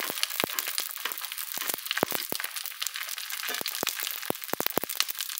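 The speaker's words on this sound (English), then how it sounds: "It's nice also to see what's the result of deep frying." Steady sizzling of Vietnamese spring rolls deep frying in hot oil, with sharp crackles and pops scattered irregularly throughout.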